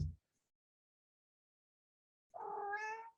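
After a long silence, a single drawn-out meow rises, apparently a person mimicking a cat.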